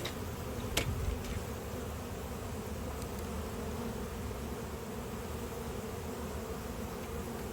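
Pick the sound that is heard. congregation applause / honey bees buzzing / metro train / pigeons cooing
honey bees buzzing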